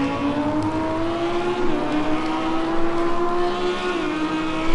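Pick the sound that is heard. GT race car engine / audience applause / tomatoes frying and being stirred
GT race car engine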